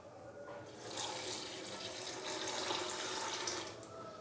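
Water from a tap pouring steadily into a pressure cooker holding chicken liver and tomato pieces, a continuous close splashing rush that swells slightly after the first second and keeps going without talk.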